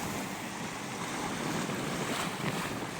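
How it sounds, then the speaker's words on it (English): Storm waves pound rocks on the Canadian coast in a dense, continuous roar of surf mixed with heavy wind buffeting the microphone, loud and unbroken, with no voices. "the water bashing against the rocks."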